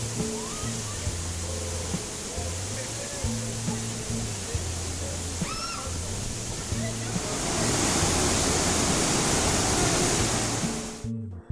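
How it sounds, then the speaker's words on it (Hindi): A waterfall dropping about 100 feet into a pool makes a continuous broadband rush that swells louder partway through, under a steady rhythmic music bed. "ये वाटरफॉल 100 फीट की ऊंचाई से पूल में गिरता है"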